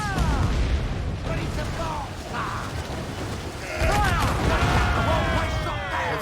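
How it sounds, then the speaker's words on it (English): Cannons in a pirate naval video game fire chain shot at a fort wall, heavy booms and bursts over the game's clattering effects, with the sound swelling loudly partway through. "I just fired a chain shot at the wall."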